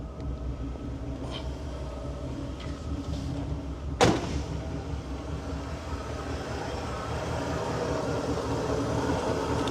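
A classic car with a Cadillac 500 engine and a 3-speed automatic fires up with a sharp burst of cranking, then settles into a smooth, steady idle rumble that grows slightly fuller; no talking.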